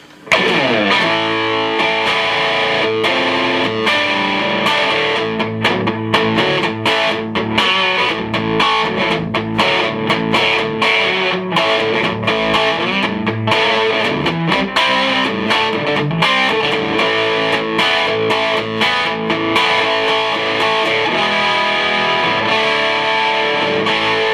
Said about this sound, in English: I'll just give you a quick blast of some distortion because it is a 2-channel amp